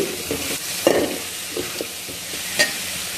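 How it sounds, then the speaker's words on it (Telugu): Bottle gourd, drumstick and brinjal pieces frying in a pan for Andhra mango rasam: a soft sizzle broken by a few scattered stirring clicks and scrapes, fairly quiet, with no voices. "ఆనపకాయ ముక్కలు, ములక్కాడ ముక్కలు, వంకాయ ముక్కలు అన్నీ వేసి కొంచెం ఫ్రై అవ్వాలి."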